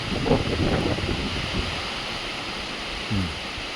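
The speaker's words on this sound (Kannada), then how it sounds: "ಇದರ ಶಬ್ದ ಕೇಳಿ, ಮಳೆಯ ಶಬ್ದ ಕೇಳ್ರಿ." Heavy monsoon rain pours in a steady, dense wash of noise, with gusty wind buffeting the microphone at the start and a brief low rumble near the end.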